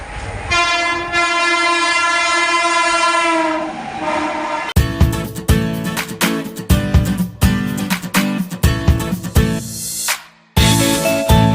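A through train passes a station platform. A long, loud horn blast comes first, then a close, rapid clatter of wheels and cars rushing by with sharp rhythmic bangs.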